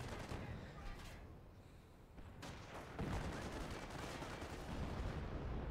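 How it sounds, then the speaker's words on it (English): Artillery and gunfire in a Company of Heroes 1 match, a dense rumble of booms and shots running steadily throughout with a heavier hit near the middle, with a commentator's voice over it. "Ooh, artillery coming in. Taking out that bunker."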